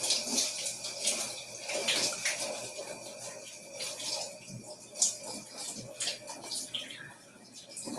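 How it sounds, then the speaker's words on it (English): Water runs from a faucet over rinsing hands, a steady broadband splashing rush with small splatters, set in a home kitchen while cooking fried chicken. "Let me rinse off my hands real quick."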